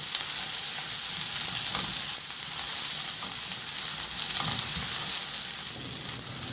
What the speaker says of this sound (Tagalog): At isunod ko na rin ilagay yung sibuyas. Ganun lang din, ihalo hanggang sa maluto lang din yung sibuyas.